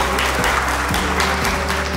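Loud, dense applause from an audience at an awards ceremony, sustained steadily for about two seconds with a low musical hum beneath it.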